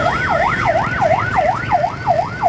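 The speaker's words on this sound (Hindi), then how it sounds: "ये पीछे एम्बुलेंस आ रही है" An ambulance siren wails steadily through slow, traffic-choked street traffic in Karachi, its rising and falling tone repeating about every half second, loud and prominent over a constant background of engines and road noise.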